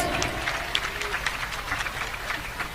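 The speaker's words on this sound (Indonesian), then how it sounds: "Tepuk tangan sekali lagi buat para finalis." Audience applause for the finalists of an Aswaja debate competition at a madrasah: a soft, steady wash of many hands clapping, fairly distant, with brief sharper claps rising now and then.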